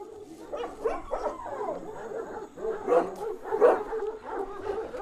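Several close barks and yips from a female Kangal breeding dog come in uneven clusters, with a whining, near-howling edge between the louder bursts.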